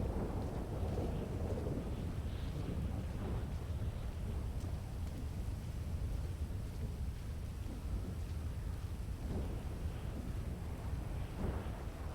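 Heavy rain pours without a break during a thunderstorm in a Los Plantos roleplay game. Low, rolling rumbles of thunder swell and fade beneath the rain at a moderate, distant level.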